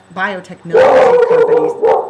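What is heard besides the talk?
dog barking at strangers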